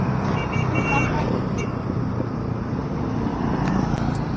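Busy city street traffic with many vehicles, a steady roadway rumble with a few faint horn toots, heard under a nearby voice.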